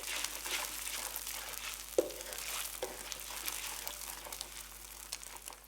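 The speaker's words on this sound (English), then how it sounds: "Blend the eggs through the chilli paste and oil until they start to cook through." Eggs frying with chilli paste and oil in a wok, a soft, continuous crackling sizzle with light stirring scrapes and one sharp knock, close but quiet.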